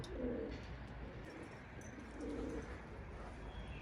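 Pigeons coo softly in two low, rolling bursts against a faint background hum on a snowy day.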